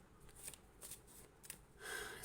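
Soft riffling and flicking of tarot cards being shuffled by hand, several quick brushes ending in a longer rustle, quiet and close with no talking.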